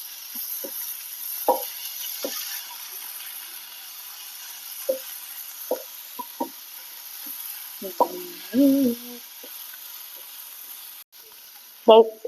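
Tomatoes are stirred and fried in a pan as the base for shark curry, with faint sizzling and scattered scraping taps of a spoon against the pan, near and otherwise quiet.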